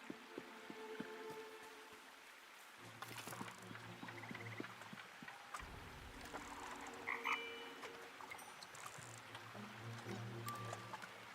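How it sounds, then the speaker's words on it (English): Frogs croak at a pond in the Tales of the Shire video game, several overlapping calls in repeated bursts over a quiet ambient bed, with occasional soft splashes and clicks, near and moderately loud. "Apparently it also has frogs."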